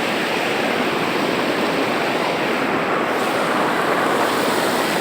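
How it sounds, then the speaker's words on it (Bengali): Floodwater roars out through a breached embankment on a riverbank at Monpura, Bhola, a loud, continuous, close rushing wash with no pauses and no voices. "শুধুমাত্র বেড়িবাঁধ ছিঁড়ে গিয়ে যে পানি ঢুকেছে, সে পানি এখন বের হচ্ছে"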